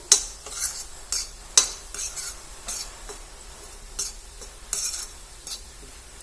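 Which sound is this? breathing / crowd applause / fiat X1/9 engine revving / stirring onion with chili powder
stirring onion with chili powder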